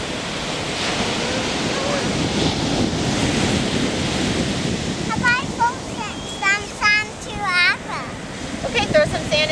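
Ocean surf breaks and rushes on a beach in a continuous roar buffeted by wind on the microphone, with children's voices and talking rising over it in the latter half.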